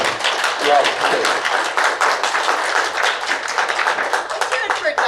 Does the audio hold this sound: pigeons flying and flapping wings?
no